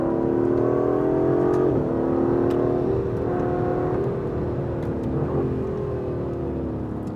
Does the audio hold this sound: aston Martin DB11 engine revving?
yes